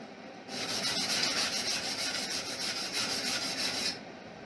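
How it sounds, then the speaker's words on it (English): An old wire brush scrubbed back and forth over metal in a workshop being prepared for a butt weld, a close, continuous raspy scratching lasting about three and a half seconds, then stopping. "I'm going to get my old wire brush."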